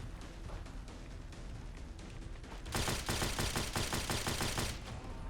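Rapid gunfire from the Crusader Pistol in Fallout 4: a dense, loud burst of fast repeated shots about halfway through, over constant game background noise, with no talking.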